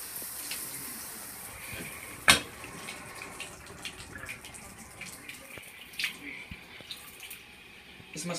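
Water runs from a hotel shower head in a Hampton Inn bathroom, a steady thin hiss with a sharp knock near the start and scattered drips and splashes throughout.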